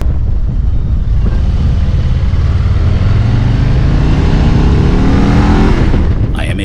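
A 2024 Harley-Davidson Low Rider ST motorcycle engine revs up loudly and close, its roar climbing steadily in pitch as it accelerates, with no talking.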